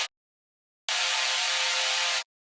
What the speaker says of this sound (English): First of all, we have this saw sound.